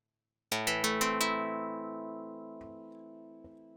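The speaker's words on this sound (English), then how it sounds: "you can see how it's becoming a string sound" Plucked-string tone synthesized on a Nord Modular G2, with five quick bright plucks in a row whose ringing harmonics blend into one sustained, slowly fading note, followed by two faint soft clicks.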